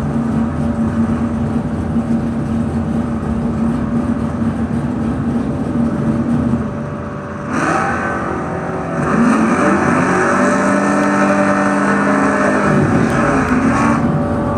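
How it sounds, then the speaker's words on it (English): A 1975 Vega hot rod at a drag strip, a loud engine drone that dips briefly and then surges into a strong, steady roar with a rising whine, heard from fairly close. "1975 Vega, the Mason plumbing and electrical hot rod"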